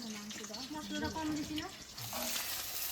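A soft, continuous sizzle of fish frying in a pan runs underneath someone talking nearby.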